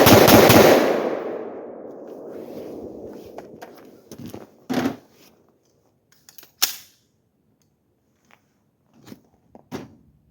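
A single loud, close blast from a 5.56 rifle with a 13-inch barrel and a Corvallis linear compensator, followed by a long rolling echo and a few faint clicks and handling noises afterward.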